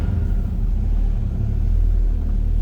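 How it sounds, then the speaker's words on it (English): A 1961 Plymouth Fury two-door hardtop idling right after a cold start, a loud, steady low rumble from the engine that runs evenly throughout. "Alright, that was a cold start"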